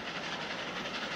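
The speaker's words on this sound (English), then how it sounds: "As the train keeps moving along the track, Elmo sees light sparkling" A train rolling along the track, heard as a steady broadband rumble and hiss with faint rhythmic clatter, continuous and fairly close, with no voices.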